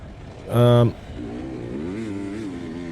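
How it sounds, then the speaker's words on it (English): A motocross motorcycle going slowly round a dirt track, its engine note rising and falling with throttle under steady wind noise, while a loud tonal horn-like blast sounds briefly near the start. "I'm just going reasonably slowly round a motocross track here, Edward."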